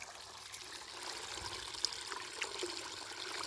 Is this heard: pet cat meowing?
no